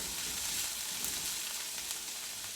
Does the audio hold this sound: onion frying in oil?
yes